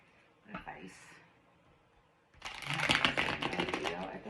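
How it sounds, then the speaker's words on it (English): Tarot cards shuffled by hand: a soft rustle followed by a dense, rapid riffling burst that sustains for a couple of seconds at close range. "I'll shuffle it one more time."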